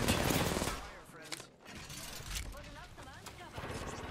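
Apex Legends gunfight with bursts of rapid automatic fire and scattered shots, dense and loud at the start, then intermittent volleys, with players talking over it.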